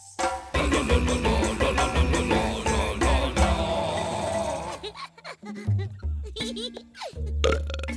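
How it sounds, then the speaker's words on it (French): A cartoon troll lets out a long, crunchy, gurgling burp, loud and close, with busy voiced rumbling at first that breaks into shorter croaks and grunts toward the end. "Oh, le beau pet de bouche, qu'il est croquant."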